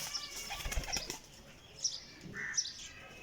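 A champion Salaray flying pigeon with black markings and a black tail beats its wings in a close, rapid flurry, followed by a few scattered faint chirps and flutters.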